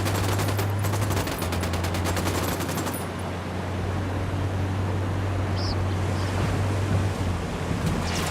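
Gunfire in Ghost Recon Wildlands: a fast burst of automatic shots opens the clip, then gives way to a steady, noisy wash of distant fire and ambience with a low constant hum.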